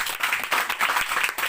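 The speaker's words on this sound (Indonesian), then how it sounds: "Tepuk tangan buat Tuhan kita." A church congregation applauds with brisk, steady clapping, filling the room loud and close for a short burst.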